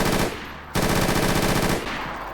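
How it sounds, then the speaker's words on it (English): An M249 SAW light machine gun fired on full auto in the DayZ video game, two loud close bursts of rapid evenly spaced shots split by a short pause, with no talking. "we now get a fully working and fully animated M249 saw in DayZ"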